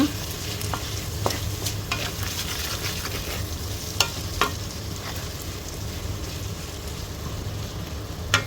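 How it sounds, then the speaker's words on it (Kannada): Bitter gourd gojju is stirred in a pan after salt and chili powder go in, with soft scraping strokes and a few sharp knocks over a low steady sizzle. "ಇದನ್ನು ಈಗ ಒಮ್ಮೆ ಚೆನ್ನಾಗಿ ಮಿಕ್ಸ್ ಮಾಡಿಕೊಳ್ಳುವ."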